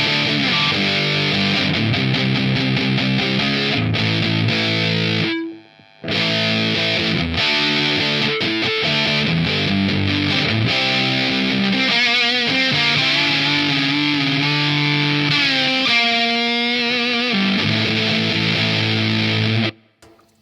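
Heavily distorted electric guitar through a Joyo Splinter JF-21 distortion pedal plays chords and sustained notes continuously, loud and saturated, with a brief gap partway through.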